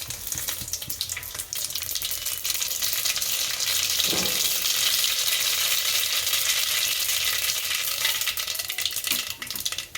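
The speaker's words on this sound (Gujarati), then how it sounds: "હવે આપણું તેલ આવી ગયું છે રાઈ નાખશું એમાં" Mustard seeds sizzle in hot oil, with a little ghee, for Gujarati jeera rice and kadhi, making a loud, dense, continuous crackling hiss close up, with one brief tap partway through.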